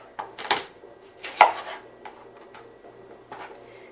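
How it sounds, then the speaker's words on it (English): A knife cuts the ends off a yellow plantain on a board, a few sparse sharp chops and knocks, one louder strike near the middle, close and quiet with no talk. "So we're going to cut the ends."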